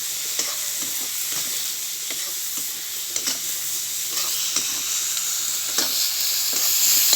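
Pieces of fish fry steadily in hot oil in a pan with a constant loud sizzle. Soft scrapes and taps from stirring recur every second or so, and there is no talk.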